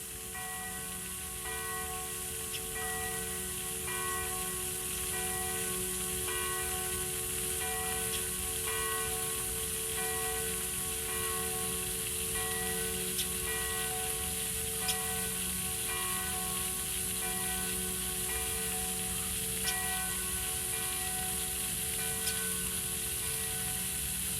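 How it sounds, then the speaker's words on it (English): Church bells ring steadily and continuously, their tones overlapping in a sustained, resonant peal over a low background hum. "listen to the bells"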